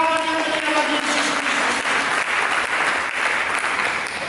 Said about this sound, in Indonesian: Mari kita berikan tepuk tangan yang mulia bagi Yesus.